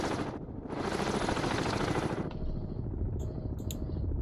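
Depth charge explosions in the submarine game Cold Waters, heard from aboard a Trafalgar-class sub: a loud, sustained roaring rumble of blasts with dense crackle, easing into a lower churning boom while faint high electronic pings sound near the end.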